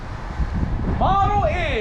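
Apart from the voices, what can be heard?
wind blowing into the microphone outdoors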